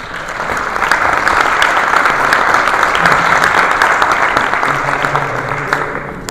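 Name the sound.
audience applause for the speaker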